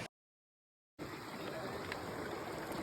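Cold water from a mountain stream flows steadily, a dense rushing wash that starts abruptly after a moment of silence and continues evenly, close and moderately loud.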